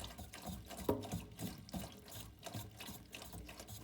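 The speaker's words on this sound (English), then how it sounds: "Look at that water coming out back there." Water trickles and splashes steadily from the back of a malfunctioning Goodman home furnace with a water buildup problem, a continuous close running-water sound with small drips, and no talking.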